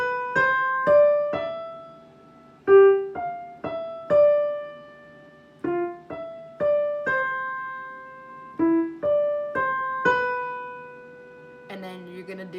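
Piano plays the opening of Für Elise at an easy, slow tempo, separate struck notes ringing out in short phrases with pauses between them, close and alone.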